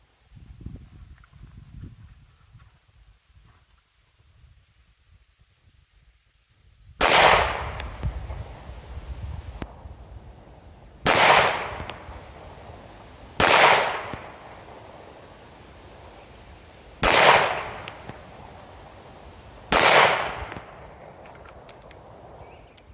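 Five sharp, loud 9mm shots from a Beretta APX A1 pistol firing 115 grain hollow points, spaced a few seconds apart outdoors, each cracking with a short echo.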